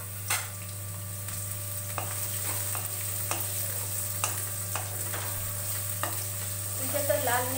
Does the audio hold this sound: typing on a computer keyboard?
no